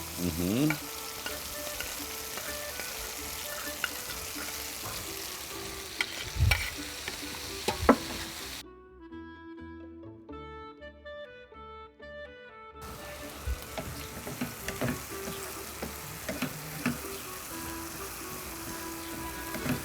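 Onion frying in a pan for a hot dish, a continuous close sizzle with scattered stirring clicks, cutting out briefly in the middle before the frying noise resumes, with no talk.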